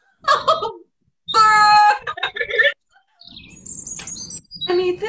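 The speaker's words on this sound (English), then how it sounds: "birds! I need this. Mountain chickadee." A mountain chickadee sings: loud, close bursts of clear whistled and buzzy chirps come in several separate phrases with short pauses between them.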